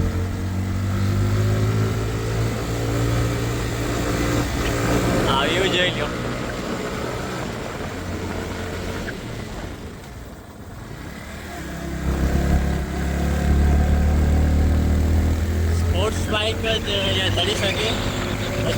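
A motorcycle engine drones steadily and strains at times climbing a steep, winding hill road to Ashapura hill, with a voice talking over it throughout.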